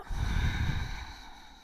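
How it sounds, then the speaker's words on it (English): Ujjayi yoga breathing during a core-strength exercise: one long, soft, throaty breath with a rushing hiss that fades out, close and quiet, with no talk over it. "I'm breathing my Ujjayi breath."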